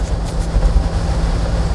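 Car engine pulling under acceleration at just over 50 km/h during a Korean driving lesson, a steady low rumble with road and wind noise, loud and continuous without talk.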